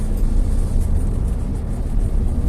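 A 2011 Toyota Avanza driving in third gear around 2000 rpm, a steady low engine drone with road rumble heard from inside the car.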